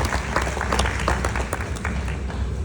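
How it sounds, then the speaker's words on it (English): An audience at a live hot glass demonstration at the Corning Museum of Glass claps steadily, a dense wash of applause throughout with no speech. "give her a nice big round of applause"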